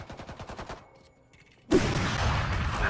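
Gunfire in the Valorant tactical shooter game: a quick series of rhythmic shots, a brief quiet gap, then a loud sudden blast followed by a sustained noisy wash.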